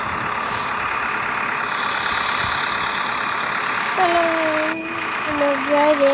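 A bus engine runs steadily while driving on a road near Khulna, a continuous mid-range drone with broadband road noise and a couple of brief horn-like tones near the end.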